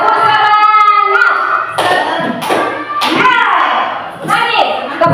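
A group claps in a quick rhythmic pattern, loud sharp bursts mixed with chanted voices calling out together.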